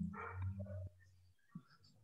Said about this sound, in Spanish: está ladrando un perro